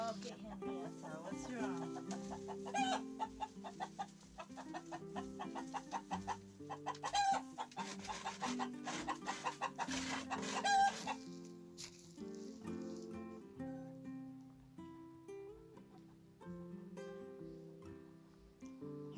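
Chickens in their coop at an off-grid homestead in Portugal cluck and murmur in a busy, overlapping stream, close by and moderately loud, with a livelier stretch in the first half.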